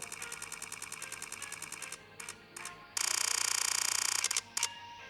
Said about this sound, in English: That's electronic shutter.